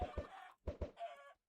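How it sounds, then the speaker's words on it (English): A baby chicken in a video game clucks in a few quick bursts, close and clear, with short pauses between calls and no talking over it. "we got a baby chicken"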